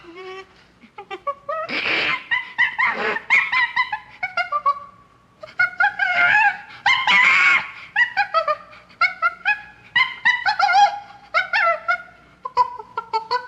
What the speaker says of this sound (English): Now I'm gonna play the clip of the Sierra sound